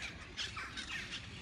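A crow caws several times in quick succession, harsh squawks against outdoor background noise.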